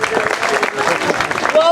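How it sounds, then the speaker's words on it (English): An audience applauding volunteers after a Rubik's Cube game at a House of Hungary event, a brief loud patter of clapping with crowd noise. "Big round of applause for our volunteers."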